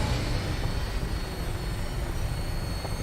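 A steady, dense engine roar drones as a Brotherhood of Steel aircraft lifts off toward the Prydwen in Fallout 4, a constant rumbling wash with no breaks and no voices over it.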